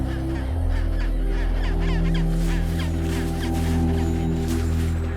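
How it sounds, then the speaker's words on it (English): A chinstrap penguin nesting colony on a rocky peak fills the air with continuous overlapping braying and honking calls, loud and dense throughout, over a steady low wind rumble. "the action-packed nesting site of the Chinstrap Penguin"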